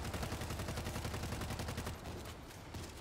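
Rapid, continuous machine gun fire from the zombie shooter World War Z, a dense stream of sharp shots that hammers on for the whole stretch, then eases slightly toward the end.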